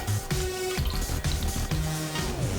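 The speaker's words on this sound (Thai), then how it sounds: "ลำดับแรกจะมาเทน้ำลงไป" Water poured into a pot to make sukiyaki meatball soup, a steady gurgling splash with drippy bubbling throughout.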